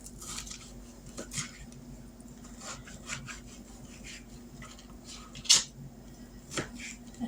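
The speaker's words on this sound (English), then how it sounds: "I'm just chopping some stuff up and throwing it in there." A knife taps through ingredients on a board for ham and white bean soup, quiet irregular knocks and scrapes with one sharper clack of utensils near the end.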